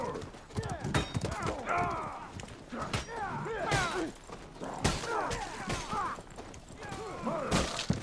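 Horse hooves clopping in a Mordhau battle, with an irregular rhythm under melee clashes, thuds and whinny-like chirps, and a voice talking over the fight.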